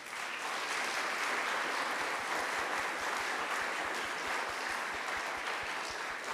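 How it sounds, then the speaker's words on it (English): Warm, sustained applause from a convocation audience honoring donors and award winners, continuous and even in loudness, with a faint regular low thump running beneath the clapping. "Let's give a warm round of applause in recognizing our ACF donors"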